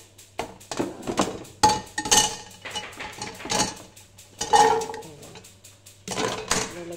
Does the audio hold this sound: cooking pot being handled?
yes